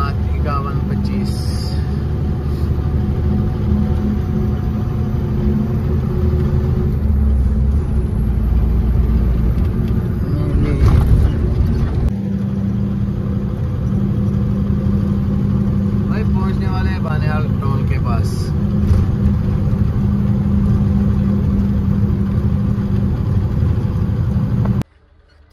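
A goods vehicle numbered 5125 runs steadily on the way to Parampura mandi, its engine a constant low hum and drone throughout, loud and close, with a short break near the end.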